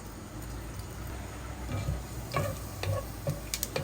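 A Bengali chechra vegetable dish made with stems cooks in a pan, giving a soft, steady sizzle while a utensil stirs and taps against the metal in scattered clicks.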